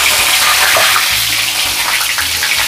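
Curry leaves, cumin, mustard seeds and asafoetida crackle and sizzle in hot oil in a pan, a loud, dense, continuous hiss up close with no voices.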